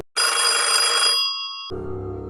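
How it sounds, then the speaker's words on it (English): A telephone rings with a bright, sustained electronic trill that drops abruptly into a lower, buzzing ring tone, close and loud, with no voices. "His phone rang again."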